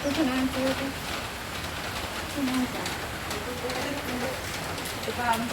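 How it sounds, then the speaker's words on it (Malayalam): Heavy rain falls outside a house, a steady close hiss running throughout, with a pigeon cooing faintly at intervals over it. "പുറത്ത് നല്ല മഴ കേട്ടോ ഗൈസ്. നല്ല മഴ പെയ്തുകൊണ്ടിരിക്കണ്ടേ"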